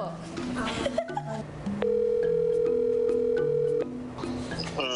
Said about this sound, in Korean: 아 전화해서 한번 물어보야 되는데